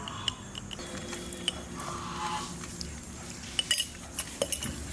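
Dishes and cutlery clink sporadically during a family meal of Bengali curries, with spoons and plates tapping close by, light and intermittent, and a few sharper clinks near the end, with no talking.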